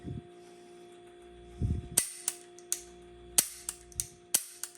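Gunshots from a Tara TM-9 pistol on a shooting range: about eight sharp, distinct cracks spaced irregularly over a few seconds, fairly close, with faint background noise and no talking.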